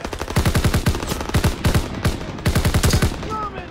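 Rapid bursts of automatic gunfire from a Call of Duty WW2 campaign firefight, loud and close, with repeated volleys and short pauses between them, plus a faint voice underneath.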